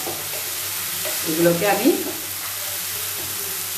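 Crushed garlic fries in a pan for matar keema, a steady close sizzle with a short burst of stirring, while a voice talks briefly over it.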